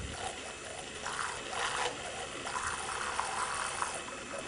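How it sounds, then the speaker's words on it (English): An immersion blender whisks liquid into foam for a lemon-lime air, giving a soft, churning watery whir with gurgling swells that rise and fall, moderately quiet and with no voices. "I start slowly and then put the speed up as I go. And I like to keep the head of the burr mixer under the plastic."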